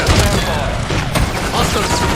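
A stun grenade goes off in a video game battle, a dense, loud crash and rumble filling the short moment amid chaotic combat noise, with voices talking over it.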